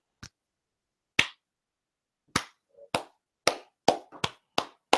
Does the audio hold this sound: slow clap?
yes